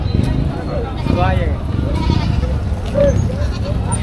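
Goats bleat several times amid a busy outdoor crowd at a livestock market, with people talking nearby throughout.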